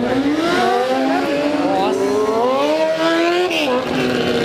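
A Yamaha RD 350 two-stroke motorcycle revs hard at a wheelie event in Mogi Guaçu, its engine pitch climbing and falling in continuous loud sweeps amid the buzz of other bikes nearby.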